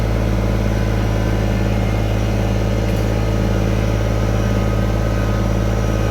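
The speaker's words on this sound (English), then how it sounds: "Back to the tractor, time to move all these pallets." A farm tractor engine runs steadily at close range while moving pallets, a loud, constant low droning hum with no talking.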